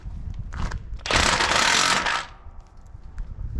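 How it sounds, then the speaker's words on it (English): A ratchet wrench tightening the drive belts on a Kuhn GMD800 disc mower, a short run of rapid metallic clicking, with a louder, denser burst of ratcheting in the middle, close and alone. "I'm going to start by tightening up the belts on this one."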